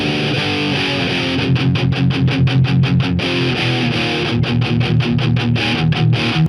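Electric guitar pushed through an old RCE 5C tube phono amp fitted with a 5998 triode tube gives a dense, distorted tone, with rapid rhythmic picked chords playing steadily throughout.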